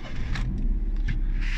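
A 2005 Daihatsu Gino sits idling right after its engine starts, a steady low rumble close up with a few faint clicks and whirs from inside the cabin.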